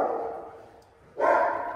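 A dog barks close by: a sustained bark, a short lull, then a second louder bark, with no talk over it.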